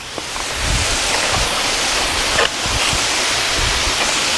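Water streams steadily down a mountain from its summit in Aurora, Philippines, producing a loud, continuous broadband rush that stays even throughout with no voices.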